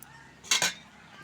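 A metal lid is set onto a pot of brinjal curry, two quick close clinks in a row, then quiet.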